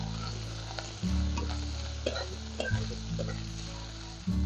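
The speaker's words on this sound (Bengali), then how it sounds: "এবার এর মধ্যে দিয়ে দিচ্ছি পেঁয়াজ কুচি পেঁয়াজটাকে একটু ভেজে নেবো" Chopped onion with cumin fries in a pan for a pea chop recipe, a steady close sizzle with occasional low thumps and a faint clink of utensils.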